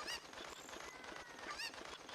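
A chicken, a cucco in the video game Zelda Ocarina of Time, squawks and clucks loudly in a couple of sharp honking bursts as it is thrown, over steady game background sound.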